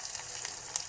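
Curry leaves drop into hot oil for Maharashtrian kadhi, producing a soft, even sizzle with one brief sharper crackle near the end, fairly quiet and with no talking.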